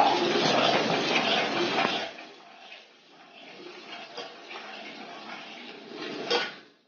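A spoon scrapes and clatters around a pot of simmering jowar flour curry with mutton offal, loud and busy at first, then softer stirring with occasional metallic knocks.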